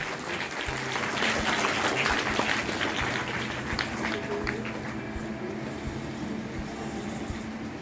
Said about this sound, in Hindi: तालियां बजाएंगे इस कार्यक्रम के शुरू होने के लिए